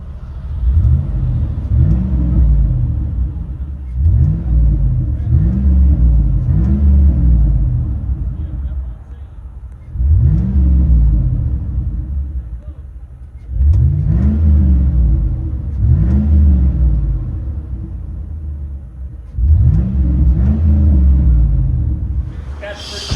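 Heard from inside the cab, a 2004 Chevy Avalanche Z71 5.3L V8 with a Flowmaster Super 10 exhaust revs repeatedly in loud rising and falling bursts over a deep steady rumble at idle, with occasional talk.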